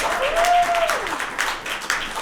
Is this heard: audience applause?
yes